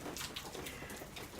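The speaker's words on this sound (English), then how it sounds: "Today it's a rainy day" Rain falling on a rainy day, a steady close patter of raindrops on surfaces with no voices.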